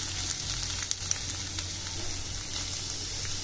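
Chopped onions cook in a pan for chicken veg patties and are stirred, giving a steady, close, even sizzle with faint scraping touches and no talk.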